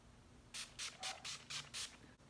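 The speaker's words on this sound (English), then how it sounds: "To set my face, I'm using the Wet n Wild finishing spray." Wet n Wild finishing spray misted over a face in six quick, even pumps, each a short hissing burst spaced about a quarter second apart, close and clear with no talking.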